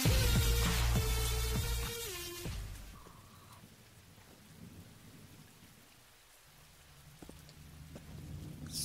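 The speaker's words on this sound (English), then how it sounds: "Out here in the rain and the cold." Heavy rain and rumbling thunder in a cold outdoor storm scene from The Walking Dead: Michonne, loud at first, then easing into a steady, softer downpour with distant rumbles.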